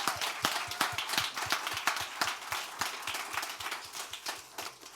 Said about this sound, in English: one more round of applause, please, for Ben Cameron